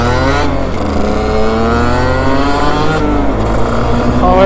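A 50cc motorbike engine revs loud and close, its pitch climbing and falling as it accelerates a little over several seconds.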